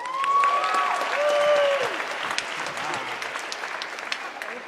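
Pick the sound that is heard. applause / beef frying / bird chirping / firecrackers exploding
applause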